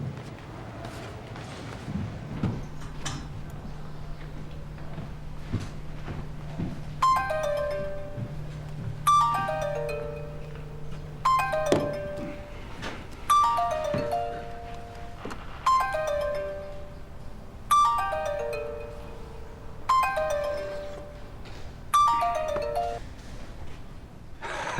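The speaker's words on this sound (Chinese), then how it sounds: "要不您先给他打个电话" A telephone rings repeatedly in a law office, its melodic ringtone pattern repeating steadily and clearly over a quiet room tone.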